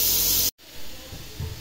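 Loud steady hiss of steam escaping from a cooking pot of boiled pork leg, cutting off abruptly, then a quieter room with faint low rumbles.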